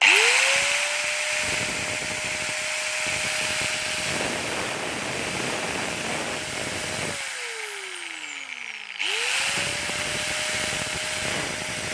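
A DeWalt DWE8100S 720W small angle grinder whines loudly at a high pitch, spinning down once and then starting up again, with no talking.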